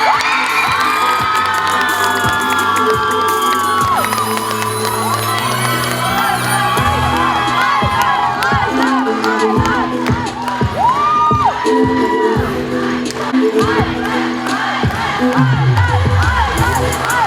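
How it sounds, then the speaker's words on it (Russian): Audience at a university pageant awards ceremony, Mister BGPU Akmulla 2023, applauds and cheers loudly and continuously, with shouts and whoops over dense clapping and music throughout. "Громкие аплодисменты мистеру Правком 2023."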